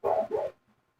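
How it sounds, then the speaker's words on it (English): A pet dog gives two quick, close barks in a row, about half a second in total, and then the room goes quiet. "my stupid dog heard my kid"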